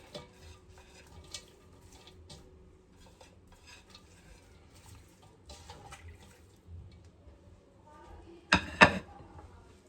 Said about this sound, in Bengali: মাংস ধোয়া আছে, পেঁয়াজ দিই।